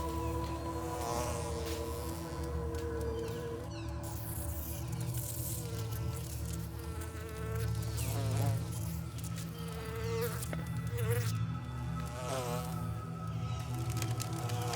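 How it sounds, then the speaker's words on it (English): Bees buzz continuously in a Paraguayan forest during a honey hunt, a dense, droning hum that swells and fades slightly as insects pass close by, with no talking. "The bees consistently remind us of their presence."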